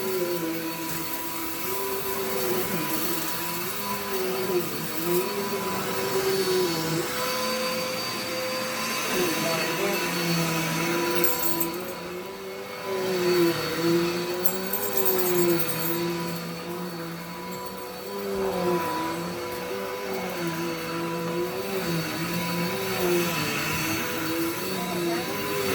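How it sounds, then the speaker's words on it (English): Whole-house vacuuming: the cleaner drones continuously up close, its motor pitch wobbling as it's pushed around, with occasional knocks and dips in level. "So I'm going to be using this vacuum afterward to go back over everything."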